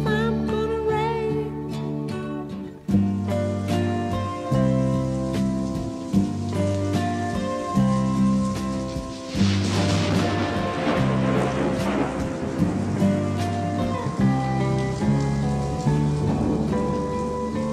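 A rain sound effect in a song comes in as a steady hiss of falling rain, blended into the loud music with piano and orchestral instruments, and swells partway through.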